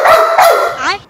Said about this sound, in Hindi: ये कुत्ता भौंक रहा है